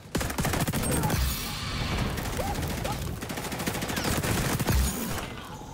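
LVOA-C rifle fire in the XDefiant shooter game, with rapid bursts of gunshots rattling in quick succession alongside game effects, loud and close, continuing steadily across the whole stretch.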